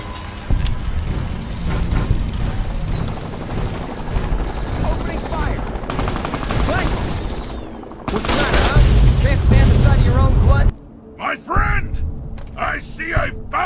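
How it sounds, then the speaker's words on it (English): Sustained automatic gunfire rattles through a Fallout 3 battle, loud and dense for several seconds and then cutting off abruptly. A voice comes in afterward. "Opening fire!"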